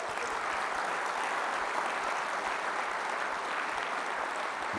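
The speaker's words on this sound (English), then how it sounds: "let's have one more round of applause for all the Guardians." Audience applause after a speech at a US Space Force address, a dense steady wash of clapping that holds loud and even throughout with no talking over it.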